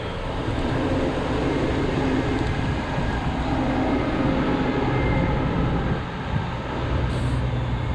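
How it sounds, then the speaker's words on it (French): A large tractor rumbles past nearby, a steady loud low roar of engine and road noise filling the whole stretch. "Waouh, c'est un gros tracteur."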